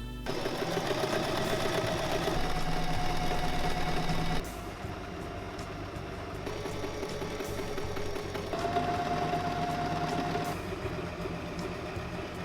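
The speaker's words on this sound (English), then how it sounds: "that sew together the panels for the skirt" A sewing machine runs in steady bursts as it stitches skirt panels together, its close mechanical hum dropping slightly after a brief stop partway through.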